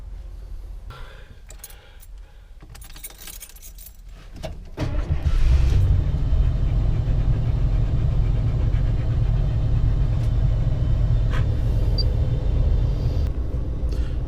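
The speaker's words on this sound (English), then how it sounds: "So now I'm going to start the engine and get it up to running temperature." Ford 7.5L 460 cubic-inch V8 cranks over with brief clicks and clatter, then settles into a steady, loud, close rumbling idle that holds unchanged to the end.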